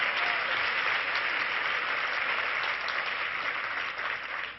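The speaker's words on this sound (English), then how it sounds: "could we please have another round of applause for Katie?" An audience at a luncheon gives sustained applause, a dense wash of clapping hands that holds steady and begins to fade at the very end, with no voices over it.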